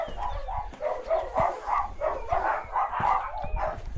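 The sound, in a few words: gang of dogs barking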